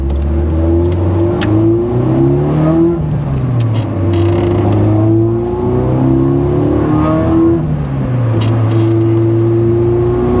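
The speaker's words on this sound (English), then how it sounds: "Third gear, fourth gear, definitely fun to drive." A 1995 Nissan 240SX with an SR20 engine, a rust-prone Midwest car, pulls hard through the gears from inside the cabin, its engine note climbing in repeated rising sweeps with a brief dip at each shift, loud and steady throughout.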